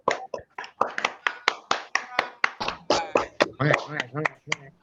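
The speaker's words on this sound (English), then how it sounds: "When I count 1, 2, 3, please clap." A group claps in quick, uneven bursts, many hands slightly out of sync, with some voices mixed in toward the end.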